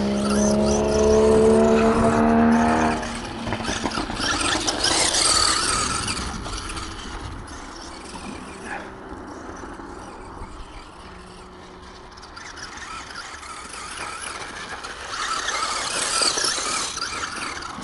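A Traxxas Bandit XL5 RC car drives around, its electric motor whining and squealing as it speeds up and slows down, loud at first, then fading, then rising again.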